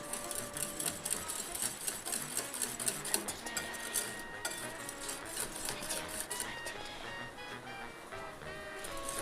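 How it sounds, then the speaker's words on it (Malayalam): An electric beater whirs steadily as powdered sugar is whisked with another ingredient for a dates cake batter, a close, continuous buzzing drone with faint clinks of the bowl. "എന്നിട്ട് രണ്ടും കൂടെ നമുക്ക് നല്ലോണം അടിച്ചെടുക്കട്ടോ"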